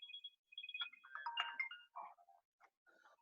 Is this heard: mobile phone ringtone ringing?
yes